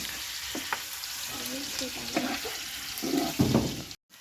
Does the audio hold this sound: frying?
yes